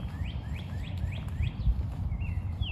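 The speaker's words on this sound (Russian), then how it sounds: "птички, которые сейчас вовсю надрываются, это в основном кардиналы, так называемые американские соловьи" Northern cardinals singing along a residential street in Canada, a run of five or six clear, repeated downslurred whistles followed by a brighter phrase, fairly near over a low street rumble.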